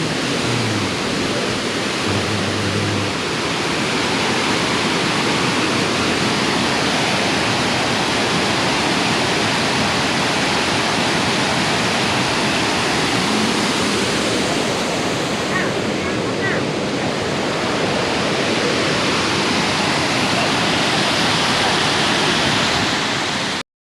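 Bald River Falls, a waterfall near Tellico Plains, Tennessee, gives a loud, constant roar of falling water that stays unbroken throughout.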